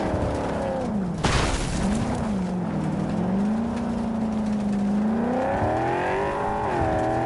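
A car driven in the video game Cyberpunk 2077, with a steady engine drone that rises and falls in pitch, a brief sharp crash near the start, and a continuous rumble throughout at a fairly loud level.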